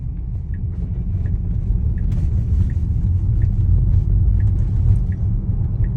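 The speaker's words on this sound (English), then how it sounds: "my car is a Model Y Performance, so it's bumpier than your average car because of lowered suspension and those sidewall tires." Steady low road rumble inside a Tesla Model Y Performance with lowered suspension and low-sidewall tires, a continuous near drone with faint periodic ticks, no voices.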